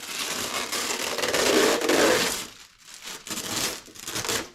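Crinkly cellophane wrapper is pulled off a Kyosho Mk2 Fazer 1970 Dodge Charger model car box, rustling and crackling close up, tearing and scrunching in bursts that swell, pause briefly, then pick up again.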